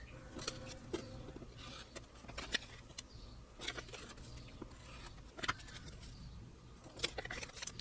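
Scissors cutting fabric for quilt piecing beside an open window: faint, quick snips in irregular bursts, with soft birdsong and light background noise throughout.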